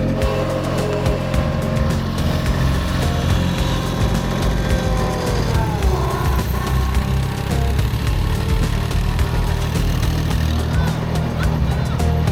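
A tractor engine on a New Zealand farm runs loud and steady with a deep continuous drone, a slight shift in pitch partway through, and faint voices in the background.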